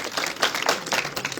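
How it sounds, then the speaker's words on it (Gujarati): An audience applauds a man being welcomed at a village gathering: a dense, steady patter of many hands clapping together, fairly close and even in loudness for the whole stretch, with no voices. "જોરદાર તાળીઓથી વધાવો પ્રવીણભાઈ."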